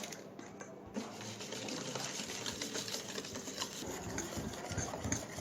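Cake batter is beaten at home, flour and powder worked in with a continuous whirring mixer-like drone and soft wet churning, fairly quiet and steady throughout.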